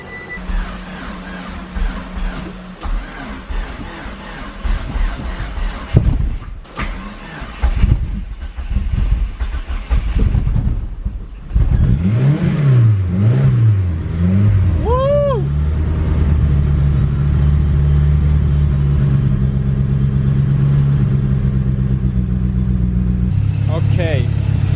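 Big-turbo 1G DSM car engine cold starting: cranking, a few stumbling catches and revs, then settling into a loud, steady rough idle close by, with speech over parts of it.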